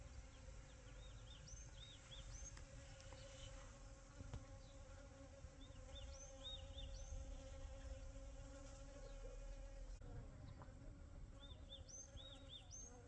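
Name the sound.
bees buzzing in a flowering mustard field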